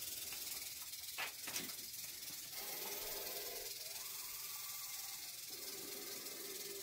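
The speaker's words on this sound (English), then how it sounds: "I'm going to get a little closer so they can hear his huffing and puffing." A puff adder gives off a steady, breathy huffing and puffing as a warning, close up and fairly faint, with a few soft knocks and no talking.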